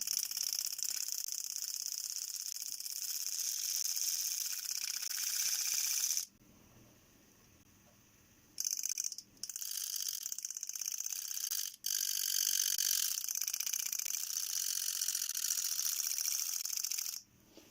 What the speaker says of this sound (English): That tiny little motor doesn't have a lot of torque.